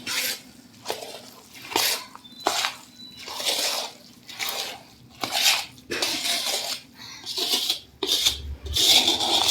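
Ingredients for sweet Gujarati adadiya are stirred and mixed in a pot, a series of repeated scraping and rubbing strokes with a spoon against metal, close and moderately loud, with brief pauses between strokes and no talk.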